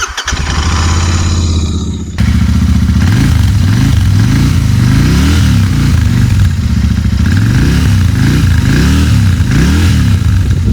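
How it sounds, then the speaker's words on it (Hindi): A Royal Enfield Continental GT650 motorcycle engine starts with a clattering crank, then settles into a loud, close exhaust note that rises and falls with repeated revving. "तो एग्जॉस्ट नोट तो सुन लिया"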